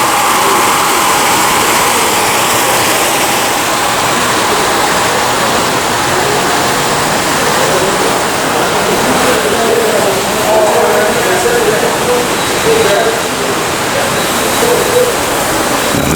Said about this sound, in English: I just love the sound of flowing water, especially when accompanied by blaring sirens.